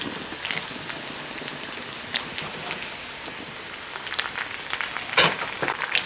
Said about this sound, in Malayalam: ഒരു മൂന്നാലഞ്ച് ചെറിയ ഉള്ളി അരിഞ്ഞ് വെച്ചിരിക്കുന്നത് അതങ്ങോട്ട് ഇട്ട് കൊടുക്കുക കൂട്ടത്തിൽ മൂന്ന് വറ്റൽ മുളക് ഒരു കറിവേപ്പിലയും കൂടെ അങ്ങോട്ടിട്ട്